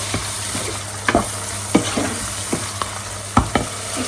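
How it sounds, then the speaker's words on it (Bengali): Vegetables with black pepper, ginger and garlic sizzle steadily in a hot pan while a utensil stirs and scrapes, making intermittent sharp clinks over the constant frying hiss. "ভেজে নেব"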